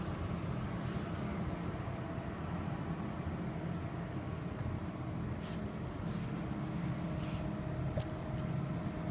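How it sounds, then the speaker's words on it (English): A table saw motor runs steadily and loudly throughout, a constant broadband whir with a low hum, briefly joined by faint high ticks near the end. "That is a table saw."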